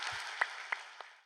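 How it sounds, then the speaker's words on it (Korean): A church congregation applauding in praise after a sermon. The clapping is brief and faint and fades out within about a second. "우리 하나님께 박수로 한번 영광 돌리겠습니다."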